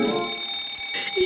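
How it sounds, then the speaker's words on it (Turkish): A fire alarm rings loudly and continuously at close range in a home, a shrill steady electronic tone that persists throughout with no voices. "Yangın alarmını biz çalıştırdık."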